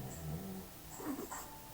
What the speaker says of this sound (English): The dog just snored really loud out in the distance.